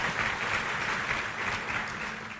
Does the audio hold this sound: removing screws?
no